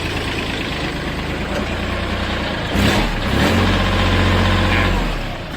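A used Kubota tractor's direct-injection diesel engine idles with a steady low rumble and chug, growing louder partway through, close by and with no talking.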